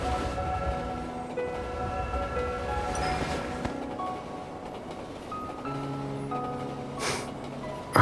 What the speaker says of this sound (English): The train is about to leave.